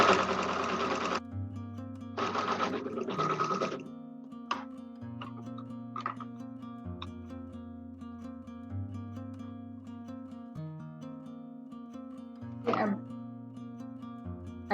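Sewing machine stitching piping onto a homemade fabric mask, close and steady, running in bursts with pauses where a faint hum and light clicks remain.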